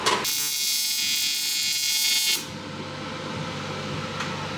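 TIG welding an aluminum oil pan for a Neon SRT4 engine: a steady, loud electric buzz holds for about two seconds, then cuts off abruptly, leaving quieter room noise.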